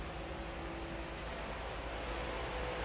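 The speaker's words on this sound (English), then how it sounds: "See the exhaust exiting through the bumpers back there where it would have came from in 55. Car has a great sound to it." A 1955 Ford Thunderbird convertible idles with its exhaust exiting through the rear bumpers, a steady low rumble with broadband hiss heard from close by, with no talk.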